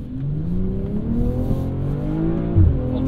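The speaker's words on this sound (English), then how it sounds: "Traction control intervention there." A 2023 BMW M340i accelerating with traction control cutting in, a loud rising engine drone with harmonics that climb, falter and climb again as power is trimmed.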